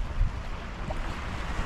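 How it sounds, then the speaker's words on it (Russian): Sea waves on the shore at Odessa: a continuous low rushing surf roar mixed with gusty wind buffeting the microphone, steady and fairly loud, with no talking. "Ребята, посмотрите, какое у нас море сегодня."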